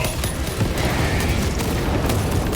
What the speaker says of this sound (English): Throw a grenade at that.